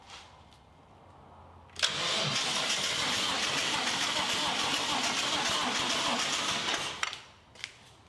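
The starter cranks the engine of a Factory Five 1965 Cobra kit car in one long, steady burst of about five seconds. It is loud and close, falls quiet, then gives a brief click.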